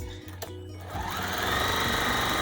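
A sewing machine stitching a fabric bowl cozy: a few soft clicks, then the motor spins up into a steady, close whirring hum that runs to the end with no talking.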